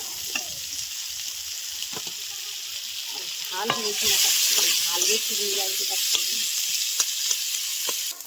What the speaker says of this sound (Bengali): তেজপাতা ফোটানোর জন্য কোচানো পেঁয়াজ কাঁচা লঙ্কা